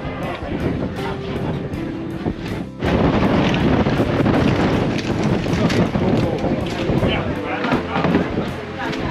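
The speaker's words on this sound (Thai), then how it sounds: "ลมแรงเลย" Strong wind gusting over the microphone at an outdoor jungle temple in Laos, a loud continuous roar that surges after a brief dip and persists throughout, with people talking underneath.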